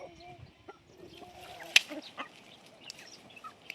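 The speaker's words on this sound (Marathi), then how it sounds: "कोंबड्या बी आल्या आता" Chickens clucking in a rural Maharashtrian home while a meal is cooked, with soft, scattered short calls and a few sharper squawks, fairly quiet and close, with no talking.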